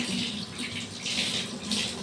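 Running water splashes over a small dog's feet during a wash, a steady close hiss with uneven surges, no talk.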